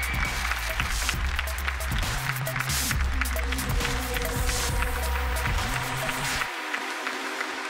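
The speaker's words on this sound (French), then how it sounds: "Allez, on se lève, on applaudit, allez, on y va, on se fait une standing ovation" A standing ovation from the audience at the Forum Femmes & Challenges 2021 talk show: dense, steady clapping with scattered sharp claps and crowd noise, cutting off abruptly near the end.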